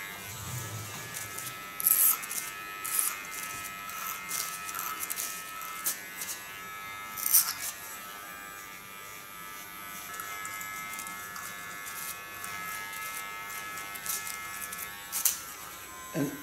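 Electric clippers buzz steadily while shaving the nape during a women's haircut, a continuous close hum with a few brief louder bursts as the blade is worked against the back of the neck.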